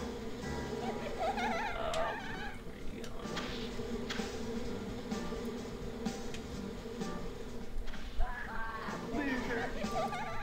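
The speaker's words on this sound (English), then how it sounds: "Okay, so I got the bees." Bees from the Ed, Edd n Eddy video game buzz over busy game music and effects, a steady low drone that runs right through the passage.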